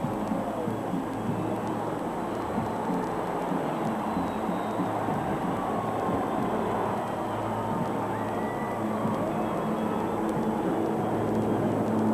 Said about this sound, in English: The next flight of Harvard trainers and single-engine Cessna spotter planes that fly in the other direction